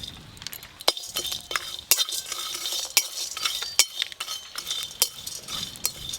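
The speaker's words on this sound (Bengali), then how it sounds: "সব কিছু একসঙ্গে ভালো করে ভেজে শিলনোড়ায় গুঁড়ো করে নেব।" Whole spices, including rose petals, dry-fried in a pan for a vegetarian dum biryani spice mix, with repeated sharp scraping and clinking of a spoon against the metal. The stirring is close and steady, and no one speaks.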